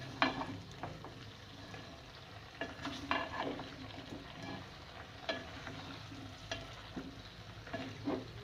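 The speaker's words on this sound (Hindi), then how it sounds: "मैं थोड़ा सा चूल्हा तेज करके इन सबको ऊपर नीचे कर देती हूँ" Aloo baingan being stirred and turned in a pan over high heat, with a soft continuous sizzle and recurring scraping strokes of a spatula, fairly quiet and with no talking.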